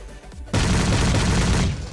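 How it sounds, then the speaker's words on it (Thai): A sudden loud burst of rapid PUBG Mobile zombie-mode gunfire with exploding shots and booming explosions starts after a brief quiet moment and continues steadily to the end. "ยิงแล้วเป็นระเบิดอย่างนี้นะครับ"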